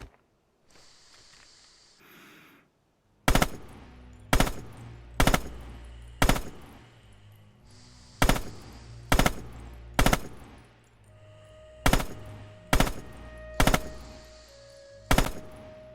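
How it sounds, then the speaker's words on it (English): Machine gun fire in the video game Red Orchestra 2: about a dozen loud, sharp short bursts at irregular intervals after a quiet opening with faint background sound. "Open fire downrange, small bursts."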